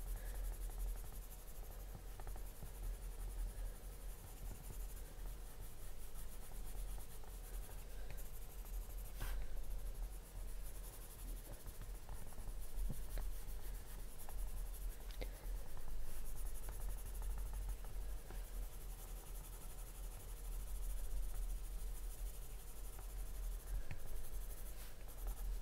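Coloring on paper with a rubbery scratching texture, steady close strokes continuing for about twenty-five seconds with no talking.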